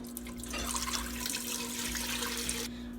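Broth pours steadily into a pot on a stove set to high, a continuous close splashing and gurgling stream lasting a few seconds before it cuts off.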